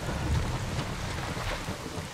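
Heavy rain pours in a steady broadband hiss in S.T.A.L.K.E.R. Call of Pripyat, with low rumbling thunder rolling beneath it, loud and continuous throughout.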